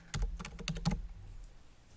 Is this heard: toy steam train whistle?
no